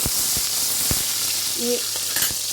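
Onions fry in a pan with a steady, close sizzle, broken by a few small clicks and pops from stirring, with no talk.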